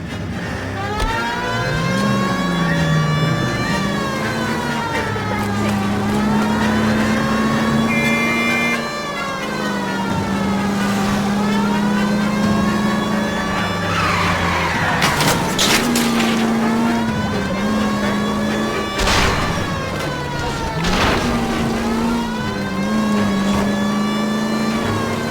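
Engine drone of a car driven in the video game LA Noire, rising and falling in pitch through gear shifts, with a few sharp bangs, loud and continuous throughout.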